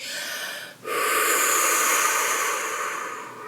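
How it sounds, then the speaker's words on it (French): After a short pause, a long, forceful exhalation rushes out close and loud as part of a tension-releasing relaxation exercise, a steady breathy hiss that fades gently toward the end. "Et tu souffles pour relâcher."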